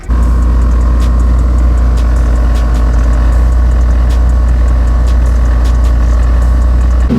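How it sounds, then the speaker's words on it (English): An Infiniti G37 fitted with an air suspension setup runs at a steady, loud idle, a deep constant engine drone with faint ticking above it and no one speaking. "Let me turn on the car, and let's see if we get the compressors to turn on"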